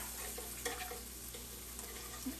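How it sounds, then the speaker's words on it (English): Whisking cream of mushroom soup and cream cheese together in a bowl for a keto green bean casserole, soft, irregular scraping and tapping strokes over a quiet steady background, close but faint. "we're just going to kind of whisk this all together"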